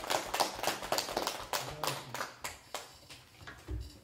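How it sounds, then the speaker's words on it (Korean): Participants at a deliberative forum clap to close a debate on social economy enterprises and online markets, giving a burst of brisk, uneven hand claps from a modest group that slows and trails off, with a low thump near the end. "서로한테 고생했다 하고 박수로서 마무리하도록 하겠습니다."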